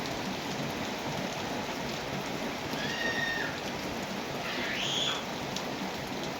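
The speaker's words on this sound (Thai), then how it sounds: "ฝนตกอยู่" Rain pours steadily over Mahachai, a dense, even hiss of drops on surfaces throughout, with a couple of faint, brief rising chirps from nearby creatures in the background.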